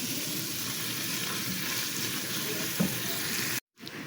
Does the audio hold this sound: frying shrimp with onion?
yes